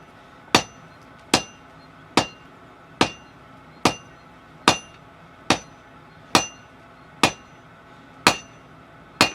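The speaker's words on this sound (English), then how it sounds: "Now I'm drawing out the reins over the edge of the anvil, turning every hit, first roughing it out," A hammer strikes hot steel over the edge of an anvil while tong reins are drawn out, twelve sharp ringing blows at an even, unhurried pace, close and loud with quiet gaps between.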